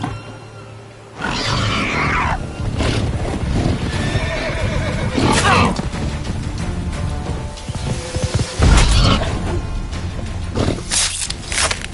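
Roach, a horse in a video game, gives loud whinnies and snorts while hooves clop and thud through the scene, with sharp bursts of neighing standing out over a busy background.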